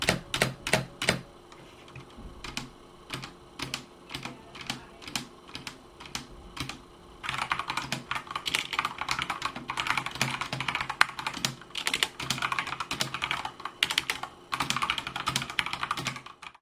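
Typing on a Cooler Master CK550 V2 mechanical keyboard: rapid, clattering keystrokes up close, starting as sparse separate clicks and building into a dense, continuous run of fast typing with no voices.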